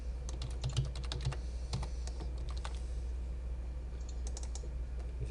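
Steady clicking of keys on a computer keyboard as code is typed, a continuous run of quick, close keystrokes with brief pauses, over a low constant hum and no talking.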